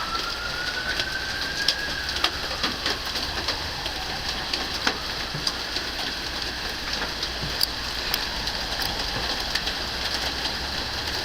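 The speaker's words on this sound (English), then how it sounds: "Look at the downpour, the rain, the everything in this massive storm of doom." Heavy rain roars steadily, broken by scattered sharp hard taps of hail hitting surfaces. No one speaks.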